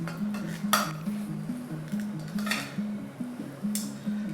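Metal tongs twisting garlic noodles with green and white onions in a pan, giving several sharp clinks against the pan at irregular intervals over a faint steady low hum.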